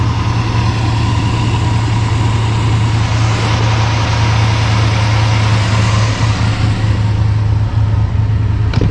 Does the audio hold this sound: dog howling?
no